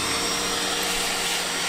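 A vacuum cleaner runs with a loud, steady roar close by while sucking debris out of a corroded carburetor on an abandoned muscle car, with no talk over it.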